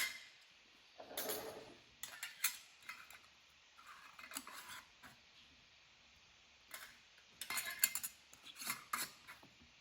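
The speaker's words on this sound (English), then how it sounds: "Put your lids and rings on fingertip tight" Metal lids and screw rings being set on cold-packed jars of raw green beans for pressure canning: scattered light clinks, taps and short scrapes, quiet and close, with pauses between.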